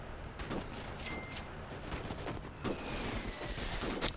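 Artillery and gunfire in the WWII game Gates of Hell, set in the 1941 German invasion of the Soviet Union, with a dense, steady barrage of blasts and rapid shots throughout.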